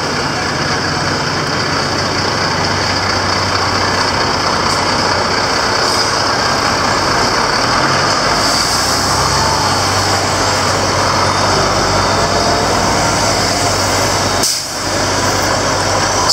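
Steady roar of road traffic with trucks on the Gambia main highway, Kombo Sila Drive, a continuous loud wash of passing vehicles with a brief dip near the end, and no talk heard.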